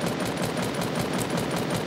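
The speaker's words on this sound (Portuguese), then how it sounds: "Tô atirando nele." Rapid automatic gunfire in a multiplayer shooter video game, a loud sustained burst of evenly spaced shots with no talk over it.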